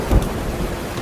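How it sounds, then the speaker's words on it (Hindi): Heavy rain pours steadily in a thick, close wash, a low rumble like distant thunder swelling briefly at the start. "इतनी तेज बारिश मैंने कभी नहीं देखी"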